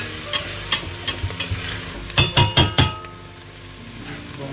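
Boiled potatoes are stirred into a pot of wild garlic soup: a spoon scrapes and clinks against the pot in a series of close, rhythmic knocks, then a few heavier scraping strokes over a soft simmering hiss, with no talking.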